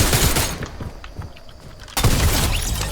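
Rapid gunfire bursts from a video game, loud and dense at the start and again after a brief lull, with shattering, crackling impacts mixed in.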